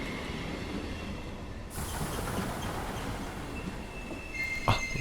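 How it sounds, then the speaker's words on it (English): A cursed train in the horror game Tales of Fear squeals and grinds its wheels as it brakes hard to a rough stop, with a metallic screech and clatter building, then a sharp jolt at the end. "Not even a smooth stop? The absolute audacity of this train."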